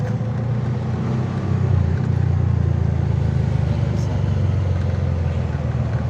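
Cars racing along a residential street, heard as a steady, loud low engine roar that holds for several seconds without clear separate pass-bys.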